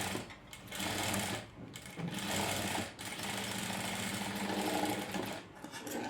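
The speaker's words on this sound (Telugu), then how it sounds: "ఇలా రివర్స్ చేసి ఒక స్టిచ్ వేసుకోవాలి" A sewing machine runs in loud, close bursts while stitching fabric for tassels, with brief pauses between runs as the stitch is reversed.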